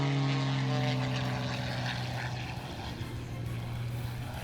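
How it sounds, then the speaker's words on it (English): Aerobatic propeller airplane flown by Rob Holland at the 2021 SUN 'n FUN Aerospace Expo airshow, a loud steady engine drone with strong low harmonics that eases slightly as it continues, heard alone. "Now he'll come by and do a couple of knife edge passes for us."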